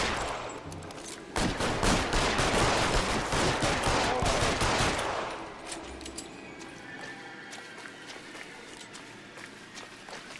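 Rapid bursts of gunfire in an L.A. Noire shootout, loud and dense for the first few seconds, then thinning into scattered shots over a quieter background.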